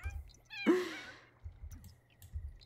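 Cat meowing in The Sims 4 video game: a single close, clear meow in the middle, with soft game music and small chirping sounds around it.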